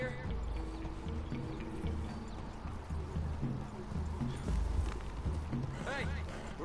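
Horse hooves clip-clopping in the Red Dead Redemption 2 video game, a steady rhythm of several hoofbeats moving through a wooded clearing, moderately close, under game character voices.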